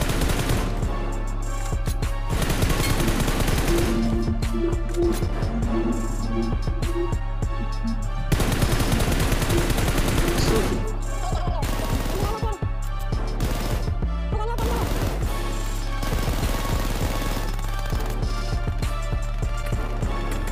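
M416 rifle fire in the mobile battle royale game BGMI, bursts of rapid automatic shots recurring between quieter stretches amid game sounds, with a voice talking faintly.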